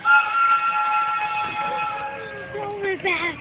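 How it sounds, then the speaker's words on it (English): A zoo train's whistle sounds as a long steady multi-tone blast, followed by a falling tone and a short burst near the end, fairly loud and close, with some background voices. "here comes the whistle"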